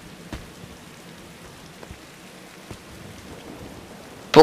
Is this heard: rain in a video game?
yes